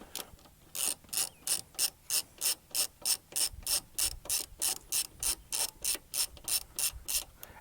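A ratchet with a 10mm socket loosens a bolt in steady, evenly spaced strokes, about twenty crisp close-up clicking bursts in a regular rhythm with little else around them.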